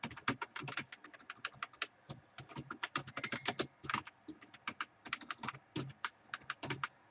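Rapid typing of C code on a computer keyboard, a dense run of crisp, close key clicks in irregular bursts and short pauses, with no talking.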